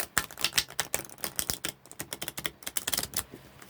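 Tarot cards are shuffled rapidly close up, a quick patter of crisp papery snaps in uneven bursts, with no talking.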